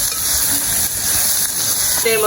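Crab pieces dropped into a hot pan of sautéing masala on an open stove, giving a continuous close sizzle with a brief voice at the very end.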